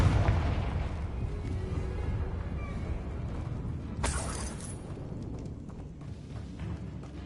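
A Confringo blasting spell explodes in a magic mod of an Assassin's Creed game. A thick, rumbling roar of game noise builds to one sharp, bright blast midway, then settles into a lower rumble.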